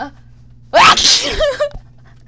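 A single loud, close sneeze bursts out sharply and trails off, set over a quiet game-like background hum.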